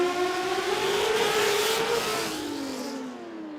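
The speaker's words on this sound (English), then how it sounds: "this is the Pontiac with the 4-cylinder twin turbo?" A Pontiac drag racing car with a twin-turbo four-cylinder engine runs at a Queensland drag racing championship, giving a loud, sustained high-pitched engine whine that holds steady, then eases and fades as it moves off.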